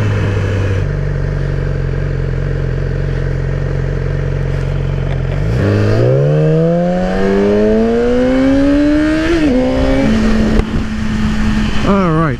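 Engine of a motorcycle ridden through heavy road traffic, recorded from a helmet-mounted setup: steady low drone that then revs up through rising gears, with a brief higher rev near the end, loud and close throughout.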